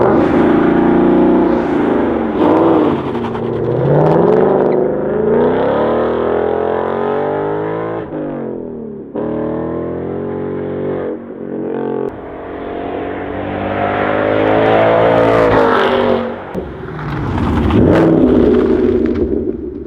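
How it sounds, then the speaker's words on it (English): Ford Mustang GT with a Borla S-Type exhaust and MT-82 transmission rumbles up close, revving and surging through several swells of engine noise with a deep, throaty note. "this is the car in idling mode, you know, and this is what exhaust sound like"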